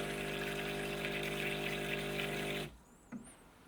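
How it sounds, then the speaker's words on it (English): A Fellow Series 1 espresso machine purges automatically, giving a loud, steady pumping hiss of water and steam for a few seconds before cutting off abruptly, followed by a faint drip and a small clunk. "As soon as you go down, it will just purge automatically."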